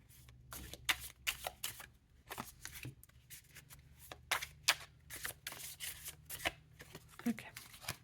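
Tarot cards being handled and shuffled close up, a rapid series of crisp riffling and slapping bursts in irregular rhythm, while someone speaks softly in between.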